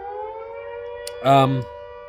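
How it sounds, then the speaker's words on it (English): Fire brigade siren in Port Chalmers, a steady droning wail with a brief louder swell partway through, heard at a distance with no one talking. "you'll find that that's a siren for the good chaps that put out fires."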